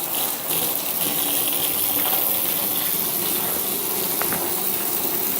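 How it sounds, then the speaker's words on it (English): Water rushes steadily and loudly as a jetted bath tub fills and is flushed out, a continuous gushing hiss with no talking over it. "Going to get it filled up here and just flush it out pretty good."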